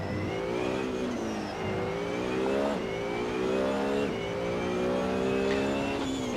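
BMW Z4 GT3 race car in Assetto Corsa, engine revving up through the gears in repeated rising pulls with quick shifts between them, loud and close with no other sounds.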